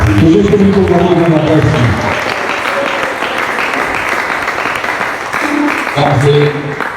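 Church congregation applauding in a dense, steady wash of clapping for about seven seconds, with voices and shouts mixed in at the start and again near the end.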